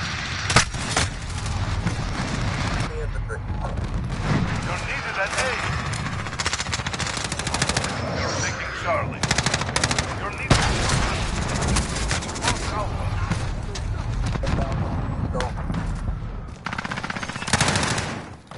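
Constant rapid gunfire from a Modern Warfare multiplayer match rattles on loudly throughout in dense automatic bursts with occasional heavier booms, while players talk over the shooting.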